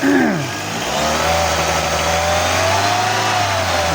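A Toyota Corolla engine that has trouble starting on cold mornings runs loud and close, with a light rev at first that settles into a steady, even drone.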